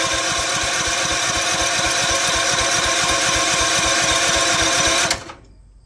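A Duromax 7 hp small engine chugs close and loud with a fast, even firing rhythm, then cuts off abruptly near the end.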